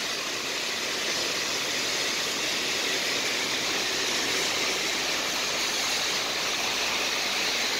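Heavy rain pours down in Bahrain, a dense, constant hiss of water on the street and surfaces with a faint low rumble beneath, steady and unbroken throughout.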